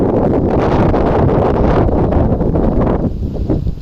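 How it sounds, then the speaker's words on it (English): Strong wind on a narrowboat on the River Calder in Yorkshire roars and buffets the microphone continuously, loud and close, easing slightly near the end. "Very, very windy. Extremely windy."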